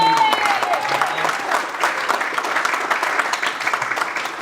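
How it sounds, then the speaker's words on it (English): A round of applause for Freddie Johnson at a business overview event, continuous audience clapping with a few voices mixed in. "Please give Freddie Johnson a round of applause"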